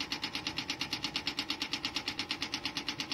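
Noisy air conditioner running with its fan scraping against the housing, a loud, fast, steady rhythmic rasping pulse repeating about seven times a second throughout.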